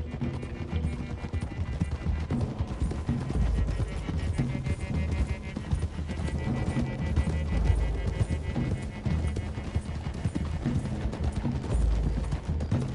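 Horse hooves clip-clopping in Red Dead Redemption II, a steady galloping rhythm of several horses carrying riders along a road, loud and continuous throughout.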